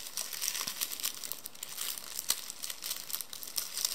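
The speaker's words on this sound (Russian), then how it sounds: "что-то мне вообще не хочет открываться этот пакетик" A plastic surprise packet from a paper LOL Confetti Pop craft set is crinkled and torn at, producing soft continuous crackling and rustling close up and fairly quiet, with no talking.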